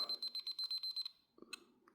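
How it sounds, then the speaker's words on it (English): A rapid string of high electronic beeps from a Nintendo Game & Watch Manhole game pausing pulses loudly for about a second, then stops, followed by a few faint clicks and soft bumps. "the game pauses and makes a really loud beeping noise"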